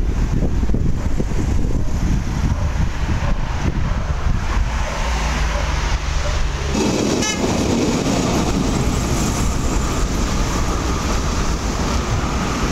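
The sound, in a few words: electric train at a station in Rome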